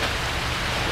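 Heavy rain pours down steadily outdoors on a small 7x3 m garden plot, a loud dense hiss of drops striking surfaces close by, with no voices.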